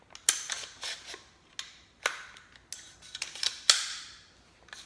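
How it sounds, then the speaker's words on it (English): Metallic clicks and clacks as the charging handle of a Smith & Wesson M&P15 Sport II rifle is pulled back and locked, several sharp close snaps separated by short pauses, with no talking. "With the safety on, I'm going to pull the charging handle back and lock it."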